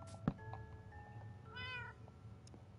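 A cat meows once in Minecraft, a short rising-and-falling call, preceded by a soft click and faint tonal beeps in a quiet background.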